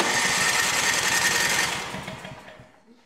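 A Craftsman snow blower engine, suspected of a carburetor fault, is cranked after priming with the choke on; it chugs in a fast, rough, rhythmic sputter for about a second and a half, then fades out without catching.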